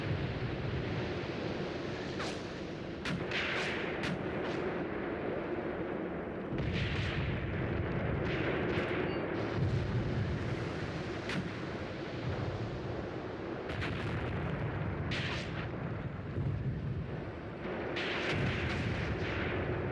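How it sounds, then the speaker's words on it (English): Artillery shells pound the battlefield in a tank warfare video game set in Tunisia in 1943, with heavy rumbling booms and sharp blasts repeating over a constant low roar. "It's getting bombarded by artillery now."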